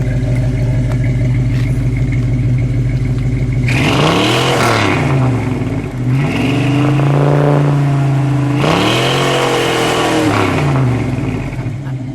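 The 360 V8 engine of a 1978 Plymouth Volare Super Coupe idles with a deep rumble, then revs hard twice, each roar rising and falling back to idle.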